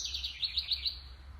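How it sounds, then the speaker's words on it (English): A small bird chirps in a quick run of bright, repeated tweets, close but fairly soft, with no talking over it. "Listen to my friend chirping."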